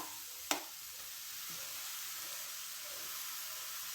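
Grated ash gourd goes into a hot pan for a thoran, with one sharp clink as it lands, then a steady soft sizzling hiss that carries on evenly, with no talk over it.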